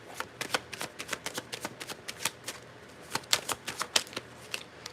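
Tarot cards are shuffled and drawn by hand, giving a rapid series of crisp, papery riffling snaps and flicks, close and steady throughout, with no talk over them.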